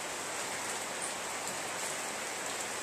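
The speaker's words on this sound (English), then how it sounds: "I kind of like working in the rain, to tell you the truth." Steady rain falls throughout while a lawn is being mowed, a dense, even hiss of drops with no voices.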